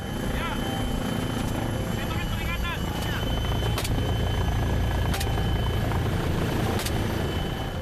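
A police helicopter pursues a smuggler speedboat over coastal waters near mangroves off Muntok, Bangka Barat, its rotor throbbing loudly and steadily throughout, with faint voices and radio beeps in the background.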